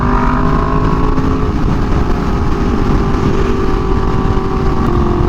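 A Yamaha R1M sport motorcycle riding on the road past a truck, its engine a loud, continuous close-up roar with a steady pitch and dense rumble throughout, no one speaking.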